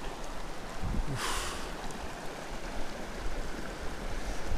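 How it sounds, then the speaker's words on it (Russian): A mountain river rushes steadily, a broad continuous wash of flowing water heard up close and fairly loud, with no voices over it. "Речка бежит."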